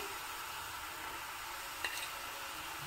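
Hot cooked rice going into a frying pan for a traditional rice dish, a steady close hiss of sizzling oil with one brief scrape or clink partway through.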